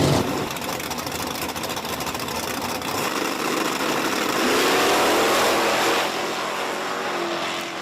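Hatchback Ford Mustangs drag racing at Virginia Motorsports Park, a loud sustained engine roar that swells as the cars pass, then fades into a rising whine at a distance.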